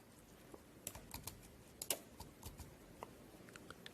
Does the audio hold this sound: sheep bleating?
no